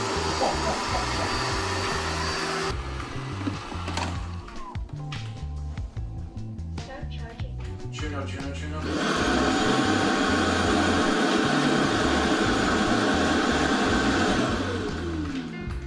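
An Ecovacs Deebot N30 robot vacuum runs in max mode with a droning hum, dips briefly, then ramps up to a louder, harsher whir partway through, continuous and close.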